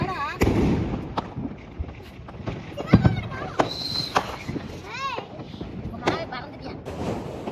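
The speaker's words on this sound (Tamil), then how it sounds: "எல்லாம் சுத்தி பட்டாசு வெடிக்கிறத பார்க்கலாம்னு சொல்லிட்டு மாடியில வந்து உட்காந்துட்டாங்க" Firecrackers burst all around a rooftop during a Diwali family celebration, sharp cracks and pops at varied distances, some loud and close, with whistling rockets and children's voices in the background.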